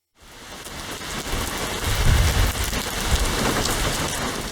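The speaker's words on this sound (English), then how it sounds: "Outside, rain had started to fall, the drops slashing against the tall windows in steady bursts." Rain falling against tall windows, a dense steady hiss and patter of drops that swells in bursts, with low rumbling in the background and no voices.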